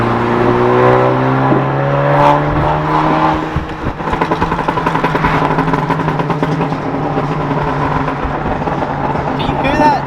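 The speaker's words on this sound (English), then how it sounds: "so I've been driving this thing around with the tune and the Catless downpipe" A 2017+ Honda Civic Si running a tune and a catless downpipe exhaust, its engine droning loudly and steadily up close, then breaking into rapid, throbbing pulses as the revs change.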